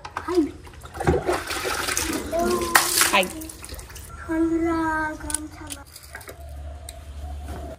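Hot water splashes from a mug over a child being bathed, with several pouring bursts and trickles close by while voices talk over the water.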